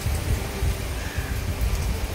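Steady rain falls at a resort in the Minangkabau region, a continuous hiss with dull low patter throughout, without any voices.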